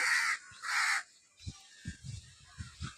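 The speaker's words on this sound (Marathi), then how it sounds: "अरे काक काक करते, दुसरंच काहीतरी बोलते." Two loud, harsh caws ring out close by, followed by quieter scuffling and low thumps.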